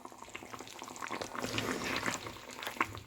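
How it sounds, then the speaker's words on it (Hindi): Chicken karahi with roasted cumin and whole coriander fries in a pan, a bubbling, spattering sizzle with scattered pops, moderately quiet and close, with no voices. "इसको अब अच्छी तरह से भूनना है हमने।"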